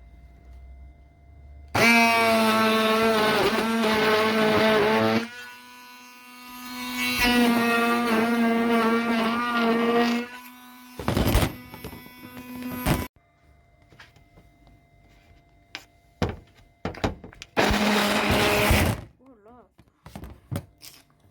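A blender whirs loudly in several bursts as it blends carrot with coconut oil, with clunks and handling knocks between the runs and a final short burst near the end.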